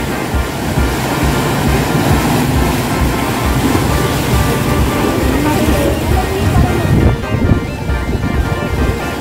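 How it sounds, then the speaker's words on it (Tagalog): Sea waves roll and crash against rocks at Big Wave Bay in a loud, continuous surging wash, mixed with heavy wind buffeting the microphone. "Ganda rin ang hampas ng mga tubig dito sa rocks."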